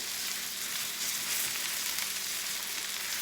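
Beef steak strips for fajitas frying in a pan, a steady bright sizzle running without a break, close and fairly loud, with no voices.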